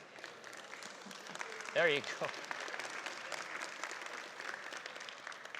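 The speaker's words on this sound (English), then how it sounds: "That's the first time I've been applauded for one word, welcome." An audience applauds for a lecture-hall welcome at an evening event, a broad, steady wash of clapping lasting several seconds, with a louder burst partway through and a voice speaking briefly over it.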